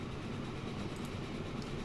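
Logging train rolling along in Transport Fever, a continuous broadband rumble with faint clatter, steady and moderately quiet throughout the short stretch with no talk.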